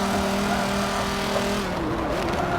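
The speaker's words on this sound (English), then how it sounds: "the Dodge Viper does have a very distinctive engine noise" Dodge Viper 8-liter V10 engine racing at Sonoma Raceway in Forza Motorsport 7, a loud, steady droning note that dips and wavers near the end as the revs shift, with no talk.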